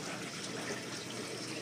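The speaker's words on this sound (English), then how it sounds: "I have good flow rate on all three of the nipples where the water comes out" Water pouring steadily from PVC pipe nipples into an aquaponics system, a continuous close rushing gush with no breaks, filling the short stretch alone.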